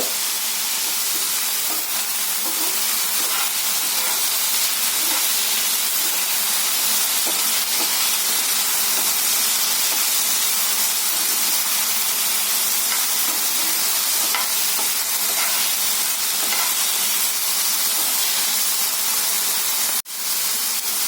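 Potatoes fry in a pan over a high gas flame, giving off a loud, steady sizzle with a broad hiss throughout and faint scraping stirs, plus a brief click near the end.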